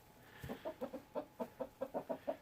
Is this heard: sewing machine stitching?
no